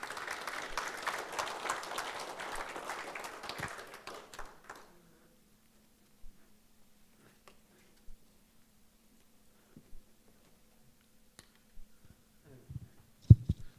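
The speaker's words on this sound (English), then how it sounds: "can I just get another round of applause for all of our speakers tonight?" Audience applause at a society's long-standing members' presentations evening: about four and a half seconds of steady clapping that tapers off into near silence, broken only by sparse small clicks and taps.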